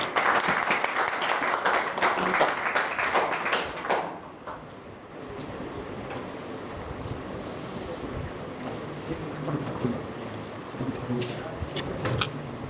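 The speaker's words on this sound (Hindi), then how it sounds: "तालियों के साथ स्वागत करेंगे।" Audience applause at a foundation oath ceremony, loud and dense for about four seconds, then fading into quieter crowd murmur and scattered noise with a few brief claps near the end.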